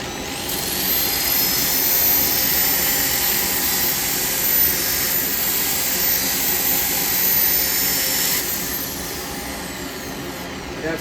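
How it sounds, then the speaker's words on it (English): A dust extractor runs in a woodturning workshop as a loud, steady, close roaring hum that holds constant and eases slightly near the end. "Let's get a bit of dust extraction on."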